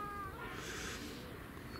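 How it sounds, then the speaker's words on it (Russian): Cats meowing outdoors in a rural yard, a brief cluster of mews at moderate distance over a low background hum, with no talk. "Вот они около меня все кошки-то."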